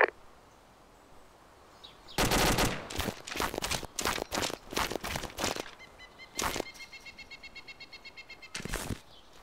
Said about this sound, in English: A single burst of AK far out to the west